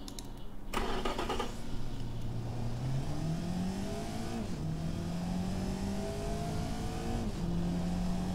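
Simulated car engine in the Automation game, a 175 horsepower build, revving up hard from a standstill and climbing steadily through several gear shifts, loud and continuous with no talking.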